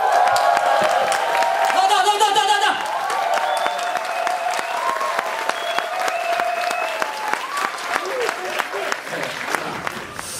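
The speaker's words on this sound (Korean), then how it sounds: "기립으로 뜨거운 박수 좀 보내주시기 바라겠습니다" Standing ovation from a lecture-hall crowd in Gwacheon, dense sustained clapping with scattered cheers and whoops, loud and close throughout, with a brief voice near the start before it thins at the end.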